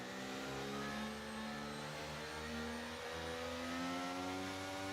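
F4 race cars accelerating hard at a restart on the Saudi Arabia round, several engines droning together with steadily rising pitch, loud and continuous with no talk over them.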